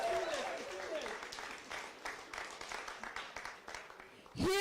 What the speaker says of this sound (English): Let's give it up big time for Deborah Magid